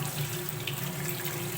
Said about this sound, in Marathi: तर 2-3 पाण्याने सुरुवातीला मी हे चिकन धुवून घेणार आहे.